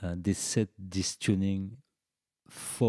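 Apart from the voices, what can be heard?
No everyday noise stands out behind the speech.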